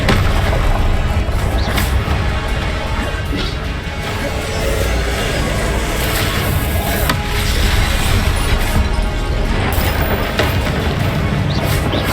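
Spell blasts from Confringo and other attacks in Hogwarts Legacy, a dense run of loud booms, crashes and impacts over constant game noise, with a few sharp hits standing out.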